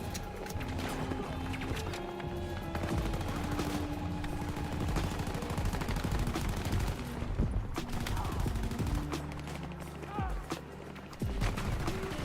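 Rapid automatic gunfire in the shooter game Battlefield 2042, bursts of sharp shots rattling over a busy battlefield mix, with a player talking over the action.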